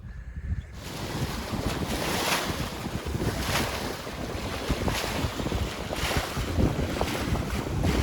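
A sailboat cruises across Chesapeake Bay steered by a hydrovane self-steering gear, with steady wind rushing and buffeting the microphone over continuous wave wash and hull splashing, loud and constant after a brief quiet opening.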